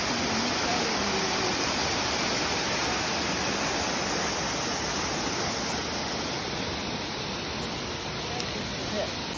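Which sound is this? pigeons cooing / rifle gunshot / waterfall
waterfall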